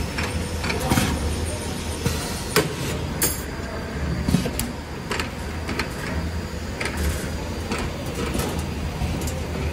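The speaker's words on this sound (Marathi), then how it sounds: "या बाकीच्या मशीन आहेत ह्या स्प्रिंग मॅन्युफॅक्चरिंग मशीन आहेत" A spring manufacturing machine clatters and whirs steadily as wire is fed through, with repeated sharp mechanical clicks and thumps over a constant hum.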